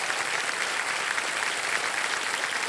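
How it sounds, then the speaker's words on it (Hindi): Studio audience applause on a TV quiz show, steady dense clapping heard at a moderate distance, with no voices over it. "एक बार जोरदार तालियों के साथ इनका भी स्वागत किया जाए।"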